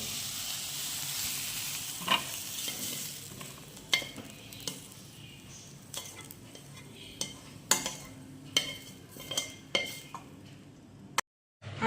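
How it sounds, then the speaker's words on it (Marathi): Soft sizzle of masala stir-frying in a pan fades under repeated scraping and clinking of a spoon stirring, with irregular knocks spaced every second or so. "परतून घेते आहे मसाला"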